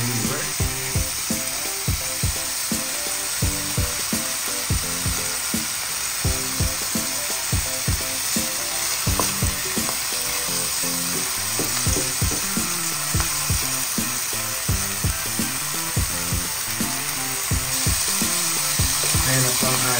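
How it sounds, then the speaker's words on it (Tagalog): Chicken liver sautéing in a hot pan for a Filipino mixed-vegetable dish, a steady close sizzle and crackle with repeated sharp clinks and scrapes of a utensil stirring against the pan throughout. "Gisa-gisa lang po natin para maluto po ang ating liver."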